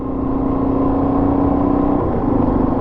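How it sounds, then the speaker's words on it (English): Motorbikes idling together on a remote Cape York outback stop, a loud steady low rumble with a faint whirring tone running throughout, close by and without speech. "Going to idle out here nice and quiet, show a bit of respect, let the bikes warm up."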